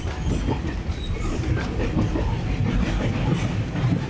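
A Tazara passenger train rumbles along the rails between Mbeya and Dar es Salaam with a constant heavy roar and faint rhythmic clatter of wheels, heard from inside a carriage.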